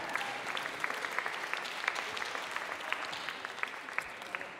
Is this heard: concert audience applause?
yes